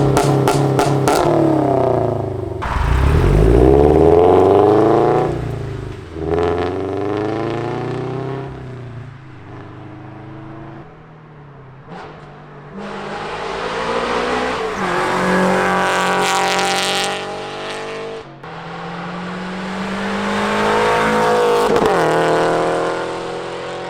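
A full bolt-on Subaru BRZ running on E85 is driven hard, its engine loud and close, climbing through repeated revving pulls with gear changes and brief lifts between them.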